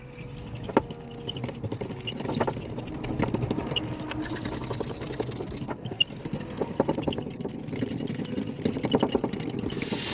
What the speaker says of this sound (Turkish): 1 su bardağı şeker ile yumurtaları güzelce beyaz olana kadar çırpıyorum.